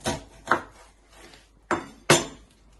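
A knife trims the end of an onion on a cutting board with four sharp, close knocks in an uneven rhythm. No voices are heard.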